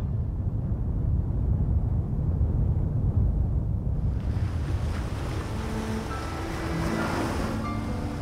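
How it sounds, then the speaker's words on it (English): Rough sea surf at a Peruvian fishing village, a continuous loud roar of breaking waves with wind buffeting the microphone, no voices. "The sea's too rough."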